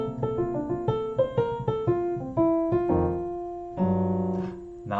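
Piano left hand playing shell voicings through an F blues turnaround, root-and-third and root-and-seventh chords struck in a bouncing rhythm, a run of short stabs settling into longer sustained chords, clear and close with no talk.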